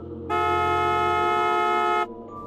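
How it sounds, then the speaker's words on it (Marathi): A car horn sounds in one loud, steady blast lasting nearly two seconds, honked on a road through a Chambal ravine, with a low engine rumble under it before and after. "मंग्याने हॉर्न वाजवला"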